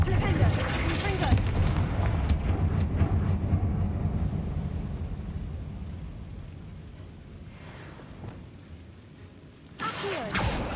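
Confringo spell blasts in Hogwarts Legacy rumble through a mine, giving dense, booming explosions that are loud early on and then trail off into a low, echoing roar. A voice talks over them, and a fresh burst arrives near the end.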